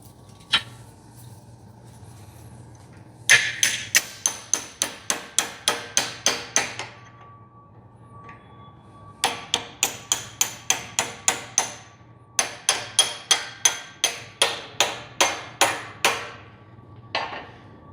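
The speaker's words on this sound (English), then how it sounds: "A little brass drift punch because you don't want to destroy the actual axle." A brass drift punch struck with a hammer against a wheel axle gives sharp metallic blows in fast bursts of about ten, separated by short pauses, close and loud, with no talking.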